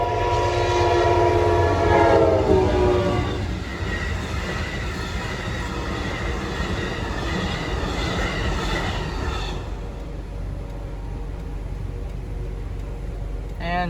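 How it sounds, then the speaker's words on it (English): An Amtrak passenger train roars past close by at a gated crossing, its horn sounding at first, then a steady rumble of wheels and cars rushing through. "there's an Amtrak train that is about"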